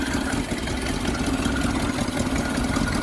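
An engine idles steadily with the ignition key on, a continuous low rumble with broadband noise that stays even and close throughout.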